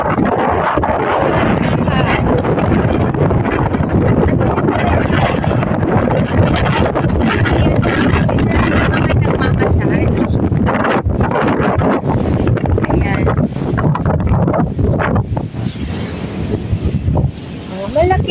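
Steady loud wind roars across the microphone at a seaside resort in Mabini, Batangas, buffeting it continuously with a rumbling, gusty rush throughout.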